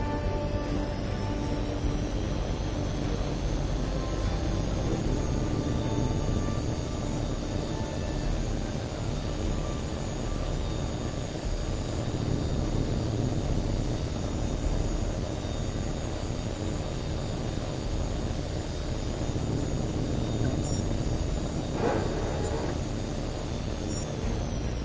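A fighter jet in the game HAWX 2 runs up for takeoff, its engine a loud, continuous roaring whine holding steady throughout, with a brief swell near the end.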